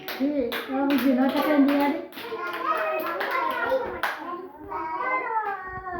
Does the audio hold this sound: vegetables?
no